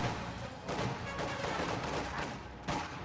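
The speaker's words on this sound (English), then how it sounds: "Way too much Grenadier fire." Grenadier rifle fire in Company of Heroes, a dense barrage of overlapping gunshots and battle noise that rolls on continuously, with sharper bursts near the middle and end.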